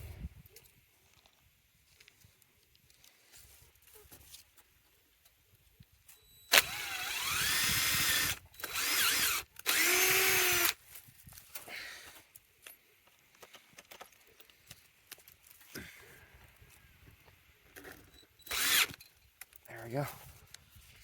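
A cordless power drill drives a screw for an electric fence on a farm with a few loud, close bursts of whirring, separated by quiet pauses and faint handling noise.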